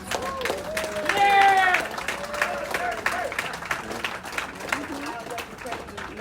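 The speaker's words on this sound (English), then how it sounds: "Give her a round of applause." Applause breaks out from a gathered audience at an ILWU Local 10 Bloody Thursday 90th anniversary event in San Francisco, a steady patter of clapping with voices and cheering mixed in, swelling briefly then tapering.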